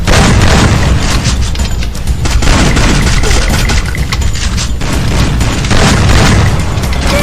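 Loud, dense gunfire and booming blasts in the shooter game Free Fire, with an AK47 in play, filling the whole stretch as continuous heavy bursts.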